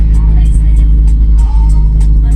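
Toyota MR2 Spyder with a full catless exhaust and its exhaust valve stuck open, idling and revving in a steady loud drone with a deep low rumble, while people talk over it inside the car.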